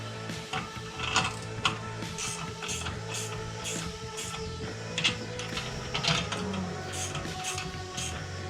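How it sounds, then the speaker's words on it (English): Continuous mechanical clicking and ratcheting from a ratchet wrench tightening 3/8-16 U-bolt nuts for a spare tire mount on a camper, steady and fairly close with sharper ticks scattered throughout. "with my ratchet wrench here. And then I'm gonna tighten them down with my torque wrench."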